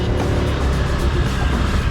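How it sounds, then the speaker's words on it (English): A car driving through Chaweng on Koh Samui gives a loud, steady, close engine and road rumble, with a broad wash of tyre and wind noise and no clear pass-bys. "just a simple drive through"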